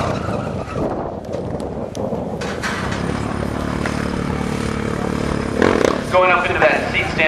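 Sportbike engine revving during freestyle stunt riding at the Coronado Speed Festival, a continuous engine drone that swells and surges near the end, under a commentator talking over an event crowd.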